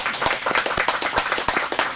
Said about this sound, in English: So should we just start with a round of applause?